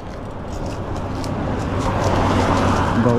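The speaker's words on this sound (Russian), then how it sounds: "сейчас пропущу машину" A car passes along a road near Petrovaradin, Serbia, its engine and tyre noise rising steadily into a loud, broadband rush close by, with no talk over it.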